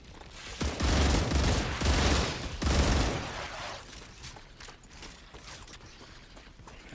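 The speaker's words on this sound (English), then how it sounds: "I was firing from the hip." Someone fires a gun in the game StarRupture in three or four rapid, loud bursts of automatic fire over the first few seconds. Quieter mechanical clicks and rattles follow, then low background ambience.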